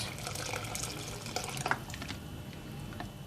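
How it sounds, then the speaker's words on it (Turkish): Hot water pours steadily into a pot of bone broth flour soup, a continuous splashing, trickling stream heard close up with no talk over it. "Şimdi de sıcak suyumuzu ekliyoruz."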